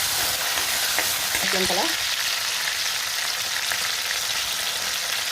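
Onions sautéing with popped mustard seeds in a pan, a steady close sizzle and crackle running throughout, with a brief spoken word near the start.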